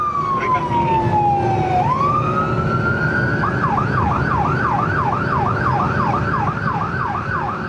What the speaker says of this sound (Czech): Výjíždí sanitka